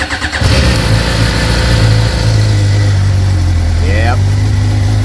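A 2022 Suzuki GSX-R 600 sportbike with its stock exhaust runs loud and close with a deep, steady engine note, then swells into a brief rev near the end.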